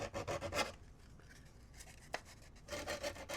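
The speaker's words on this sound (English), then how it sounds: "I think if I sand down this pole a little bit," A pole being sanded down during a repair of an Akai karaoke machine, giving close, rhythmic scratchy rubbing strokes in two bursts with a quieter stretch between them.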